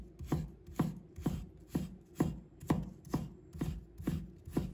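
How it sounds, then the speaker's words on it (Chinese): A knife cuts ginger into thin shreds in a steady, evenly spaced run of about ten crisp chops, close and on its own. "再切成丝"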